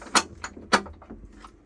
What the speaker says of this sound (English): This door is pretty good because it closes like this.